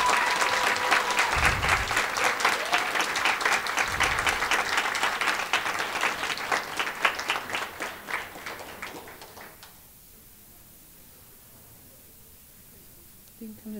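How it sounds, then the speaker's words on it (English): An audience at an academic pride awards program gives sustained, dense applause for about nine seconds, then fades out and leaves near silence. "Let's give them a round of applause."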